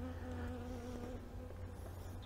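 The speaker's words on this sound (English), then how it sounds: "You can probably hear this little bee wants to be on mic telling us that she's not happy with us." A honeybee from a Layens horizontal hive buzzes defensively right at the microphone, a steady close drone with a slightly wavering pitch throughout.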